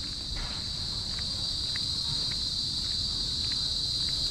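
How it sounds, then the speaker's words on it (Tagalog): Crickets chirp steadily along a walking path at La Jolla in Bagac, Bataan, a dense continuous high-pitched drone that fills the whole stretch at an even level, with no talking. "Kasi may maririnig kang kuliglig."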